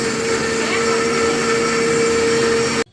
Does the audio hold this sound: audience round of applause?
no